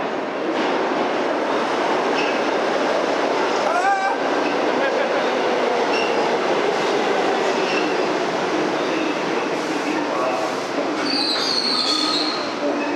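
New York subway train running loud and close, a continuous rumbling roar with screeching wheel squeals and metallic clatter throughout.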